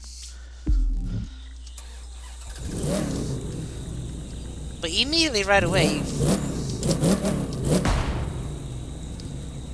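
A car engine in a racing video game revs up, pitch climbing and falling in sweeping waves, over a steady low hum while someone talks briefly at the start.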